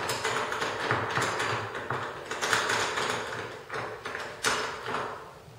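A clamp being tightened onto a table saw fence while a miter sled is built, giving a steady run of close ratcheting, clicking mechanical sounds with a few sharper knocks.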